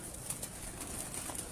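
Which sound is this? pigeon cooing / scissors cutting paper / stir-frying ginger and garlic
pigeon cooing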